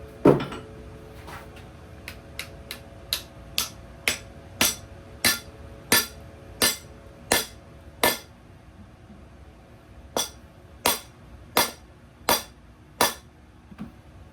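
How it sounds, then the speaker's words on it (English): A wooden mallet drives an axe head back onto its handle in a workshop, heard as a long series of sharp, evenly spaced knocks in two runs separated by a short pause, close and clear with no speech. "Get the mallet, hammer back."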